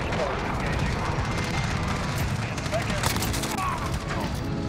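Rapid automatic fire from a Grau assault rifle in Modern Warfare, a steady stream of close, loud shots running throughout, with a voice talking over the gunfire.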